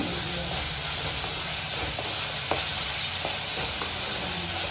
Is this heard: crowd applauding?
no